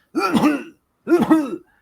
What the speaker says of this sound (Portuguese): Nas horas mais inconvenientes, ela vai lá e dá a tossidinha dela.